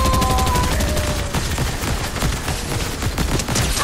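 Dense, rapid gunfire fills a Fortnite match, with a continuous loud fusillade of overlapping shots and no talking.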